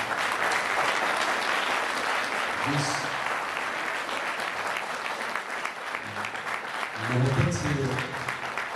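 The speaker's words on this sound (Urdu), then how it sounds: "اپنے لیے آپ جتنی بھی تالیاں بجا سکتے ہیں" A mushaira audience claps at an Urdu poetry gathering, with steady crowd applause running beneath the voice of a poet as he speaks to the crowd, swelling slightly louder near the end.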